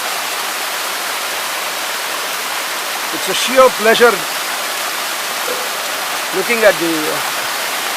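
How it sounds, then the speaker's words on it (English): A heavy waterfall on the road to Mahabaleshwar, swollen by rain, sends up a steady, dense rushing roar that fills the whole clip, with someone speaking briefly over it in the middle. "This waterfall is 10 kilometers en route to Mahabaleshwar."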